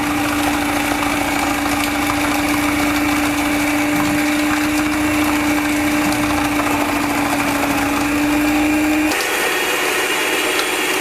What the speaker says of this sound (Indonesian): Lama juga mixernya ya.